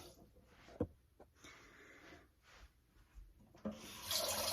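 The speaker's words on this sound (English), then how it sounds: "you want to put some hot water in it. That way it cleans out easily" Hot water runs from a tap into a used caramel pan, a soft irregular splashing stream with a couple of clunks, swelling into a louder gush at the end.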